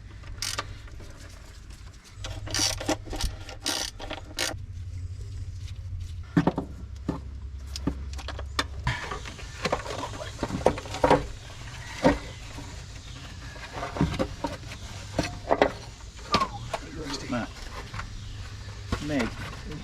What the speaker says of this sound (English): Let's pull some valve covers off.